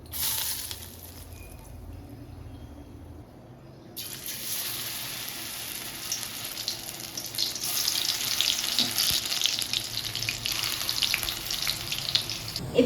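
Pakoras fry in hot oil, starting with a quieter background before a steady, bright sizzling hiss swells in and keeps building, close and continuous with no talk.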